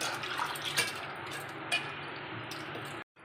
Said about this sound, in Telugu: ఇలా కందిపప్పు బాగా నీట్గా 2 సార్లు వాష్ చేసుకోవాలండి.